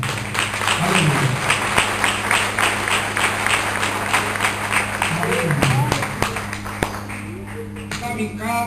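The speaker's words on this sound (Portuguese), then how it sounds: "As palmas louvam o nome do Senhor." A church congregation clapping during a worship service, with scattered sharp hand claps ringing out over a low hum while voices call out and speak.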